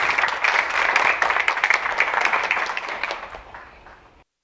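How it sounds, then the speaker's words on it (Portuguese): An audience at a Brazilian roundtable on ancestry and traditional knowledge gives a warm round of applause to welcome an Ialorixá, steady dense clapping that gradually thins and fades out. "Uma salva de palmas, por favor."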